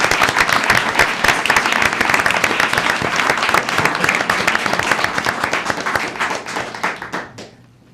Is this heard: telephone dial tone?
no